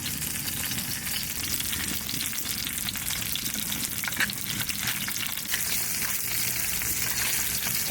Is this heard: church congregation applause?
no